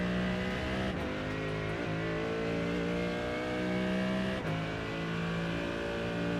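Mercedes-AMG race car engine in iRacing revving hard and high, a loud continuous tone that climbs steadily in pitch, with two brief gear-change dips along the way and no talking.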